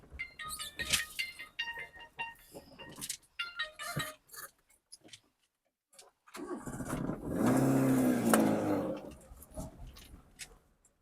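A Maruti WagonR on a test drive, with a steady mid-pitched engine drone rising to a louder, smoother surge as the car moves off, after a stretch of cabin clicks and a brief near-silent pause.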